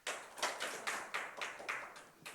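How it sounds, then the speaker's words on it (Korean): A church congregation at a healing service claps hands in a quick series of about eight sharp, evenly spaced claps, fairly faint and with no talking. "믿어지면 박수 2번만 칩시다"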